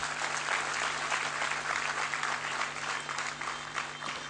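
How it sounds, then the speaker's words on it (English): Audience applause at a university convocation ceremony, a dense, steady wash of many hands clapping at even loudness throughout, with a faint hum underneath. "A big round of applause for them."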